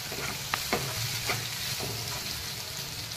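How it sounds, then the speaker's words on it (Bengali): Raw mango chutney frying on a slow flame in a pan, a continuous close sizzle broken by a few sharp stirring scrapes, with no voices. "এরকমভাবেই 2-3 মিনিট স্লো ফ্লেমে ভাজতে থাকবো।"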